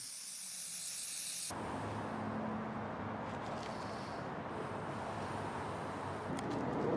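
Cleaner sprayed onto the vapor screen of a Jaguar XJ6 Series 3 engine, a sudden steady hiss that starts after a quiet moment and continues with small fluctuations, close by.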